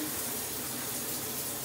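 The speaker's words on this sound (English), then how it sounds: "taking a shower, I got the hot water running" Hot water runs steadily from a shower in a home bathroom, a continuous broadband rush of spray with no pauses and no voices over it.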